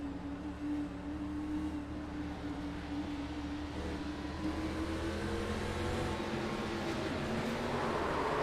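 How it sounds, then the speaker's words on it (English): An ARCA Series race car engine drones steadily from an in-car view, its pitch wavering as the driver misses a shift, a sustained mid-level mechanical hum with no speech over it. "You're going to see the 91 miss a shift or go to neutral here."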